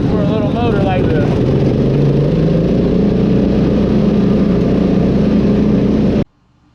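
A small engine on a mud mower runs near and loud, a steady throbbing drone with a brief rising rev at the start, holding even until it cuts off abruptly near the end.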